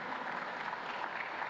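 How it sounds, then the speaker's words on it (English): An audience at a live event led by the Director of the Governor's Biodiversity Conservation Office gives a steady round of applause, even and fairly quiet, holding the whole stretch without a break. "loud round of applause?"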